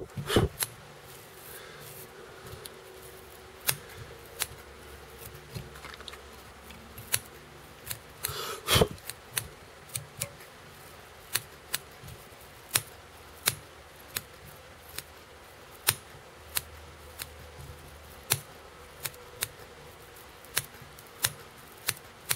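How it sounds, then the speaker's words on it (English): Big scissors trimming fly tying material on a Green Machine fly: a steady series of crisp, close snips at irregular intervals over quiet room tone. "Now I can take my big scissors and I can simply start going to town on this."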